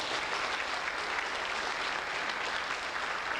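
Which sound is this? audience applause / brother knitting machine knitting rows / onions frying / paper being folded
audience applause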